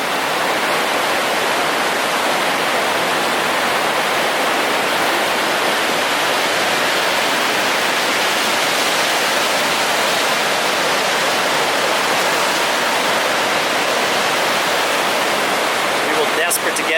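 The Niagara River's white water rapids near Niagara Falls, Ontario, heard from the White Water Walk, make a loud, unbroken roar of rushing water that holds steady throughout.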